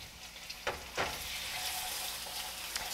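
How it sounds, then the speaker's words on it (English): Marinated meat seasoned with soy sauce and fresh garlic stir-fries in seasoned oil for a Chinese chicken and eggplant dish, giving a steady close sizzle with two brief louder scrapes or tosses early on and no talking. "stir fry that in your seasoned oil, and you'll cook the meat until it's fully cooked through"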